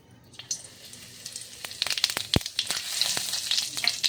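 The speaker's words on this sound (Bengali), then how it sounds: "ওই কড়াইতে আমি এখন ফোড়ন দেব। প্রথমে গোটা জিরে" Crackling sizzle of whole cumin seeds hitting hot oil in a wok, sharp pops and spits building over a steady hiss, close and fairly loud.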